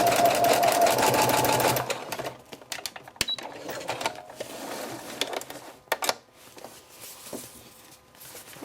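A sewing machine stitches a cloth diaper, running loud and steady for about two seconds, then stopping for a backstitch with short bursts and faint clicks and handling noises.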